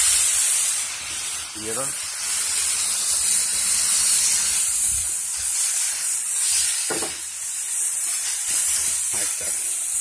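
Red salsa hitting a hot pan for chilaquiles rojos, a steady loud hiss and sizzle running throughout, with a woman's brief speech over it.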